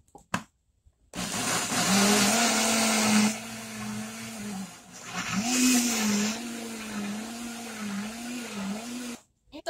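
A blender mixes mango cake batter made with pure mango, margarine, eggs and sugar, whirring loudly in two bursts with a pause between, starting and stopping abruptly; a voice speaks faintly at moments.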